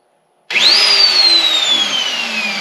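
A magnetic drill motor whines up sharply to a high pitch, then holds a steady, slowly falling tone as it keeps running, loud and close.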